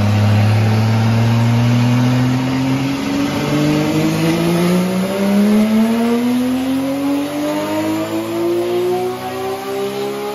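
A 1000 hp tuned drift car engine revs on a dynamometer stand, a loud close continuous roar whose pitch climbs steadily through the gears as it accelerates, with no talking over it.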